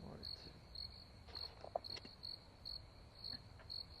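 Crickets chirp in steady, evenly spaced pulses throughout, a high repeating trill over a low background hum, moderately near and clear with no talking.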